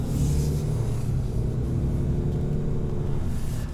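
A 2020 Ram 3500HD with a Cummins engine on the move, heard from inside as a steady, heavy low rumble with constant road noise and no voices.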